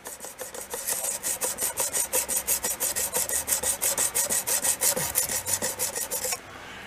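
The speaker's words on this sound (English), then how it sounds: "I've been cheating even with my honing stone." A honing stone is rubbed back and forth along the blade of a cheap knife, about two dozen rhythmic rasping strokes close up, steady and evenly paced, then stopping.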